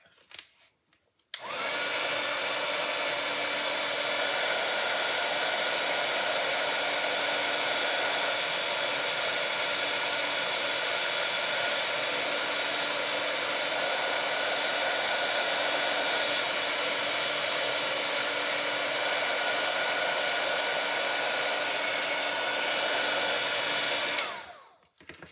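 A heat tool blows steadily on a card-making project, a constant loud whirring hiss that runs unbroken for over twenty seconds after a click on and stops abruptly at the end.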